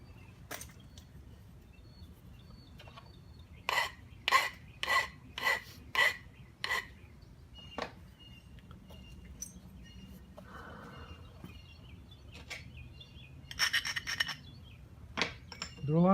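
A flint nodule being smoothed during knapping, with a run of six evenly spaced sharp rasping strokes followed by scattered scrapes and a denser burst of abrasion, close and quiet overall.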